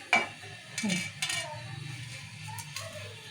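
A cinnamon stick, star anise and four cloves fry in a pan with a faint sizzle, broken by a few sharp metallic clinks of a spoon stirring against the pan.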